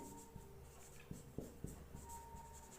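Pen writing on paper while working a class 10 maths division problem, heard as soft, close scratchy strokes with a few brief taps, fairly faint under a steady room hum, with no talk.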